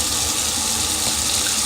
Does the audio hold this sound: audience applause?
no